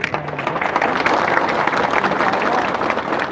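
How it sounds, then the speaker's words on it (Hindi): An audience at a political gathering applauds, with steady dense clapping from a crowd that holds at an even level for the whole stretch. "सब इनको भी एक बड़ा ताली दीजिए।"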